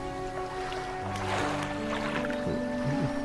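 A fishing boat's engine in the fishing game Dredge chugs with a steady low tonal hum and splashy water sounds, close and continuous.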